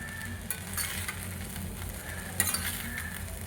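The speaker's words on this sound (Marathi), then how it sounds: "फ्लेमवरच पोहे परतायचे." Poha being stir-fried in a pan over a low flame, giving a steady soft sizzle with occasional scraping and light clinks of a utensil against the pan, close and continuous with no talking.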